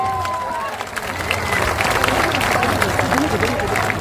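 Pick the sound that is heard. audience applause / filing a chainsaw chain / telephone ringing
audience applause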